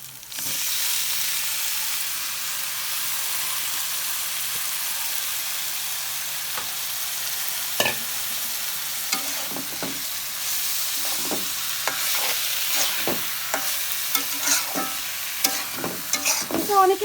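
Banana blossom sizzles steadily as it fries in a pan, a soft constant hiss with scraping stir strokes that grow more frequent in the second half, close by and with no talking.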